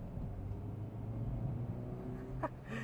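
A Hyundai Exter CNG Duo with its Kappa engine accelerates in second gear from about 25 km/h, a steady close hum that rises in pitch under throttle, with a short rough burst near the end.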